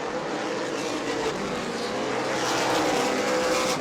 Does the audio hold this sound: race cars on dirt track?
yes